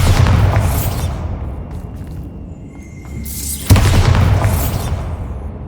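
Two loud booming blasts from the Bombarda spell in the Hogwarts Legacy video game, each followed by a long rumbling decay, with a quieter gap between them.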